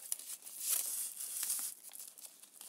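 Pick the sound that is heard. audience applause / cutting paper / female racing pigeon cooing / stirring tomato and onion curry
cutting paper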